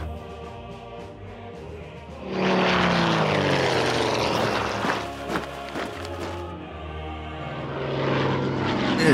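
The droning propeller engine of a WW2 bomber aircraft in a strategy war game swells in loudly after a quieter start, holding a steady rumbling hum with some shifting pitch, no voices over it.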